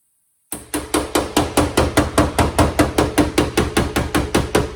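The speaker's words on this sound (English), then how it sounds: "the reason that I'm using a hammer with such a wide profile is basically to try to not push dents other places" A wide-faced hammer strikes a car body panel about fifteen times in a steady, quick rhythm, each blow a sharp close metallic knock.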